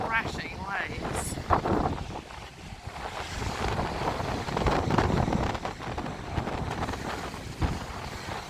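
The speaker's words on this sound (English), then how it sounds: "it's a wee bit windy, so you're going to hear a bit of wind" Strong wind gusts roar and buffet the microphone on the rugged seafront at Hastings. Crashing waves and surf add to a dense, steady wash of noise, and a voice speaks faintly underneath.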